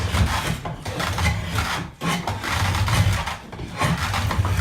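Steady rasping and scraping as a cooper shapes a wooden barrel stave, continuous strokes with brief pauses, close and fairly loud, no voices.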